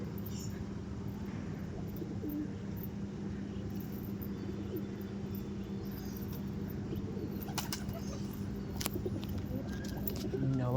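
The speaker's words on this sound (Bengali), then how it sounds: "নামছে পায়রা।" Pigeons settling onto a house rooftop, with soft cooing and occasional wing flaps over a steady low background hum, fairly continuous and moderately near.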